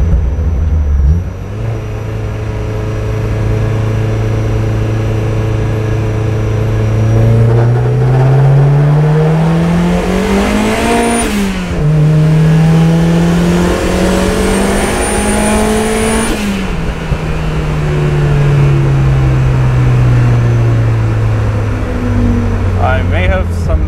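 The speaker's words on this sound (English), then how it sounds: "the blow-off sounds wild" A turbocharged 1.6-litre car engine making about 300 wheel horsepower, close and loud, revs up and down repeatedly, its pitch climbing and falling, with a sharp hiss as the blow-off valve vents between pulls.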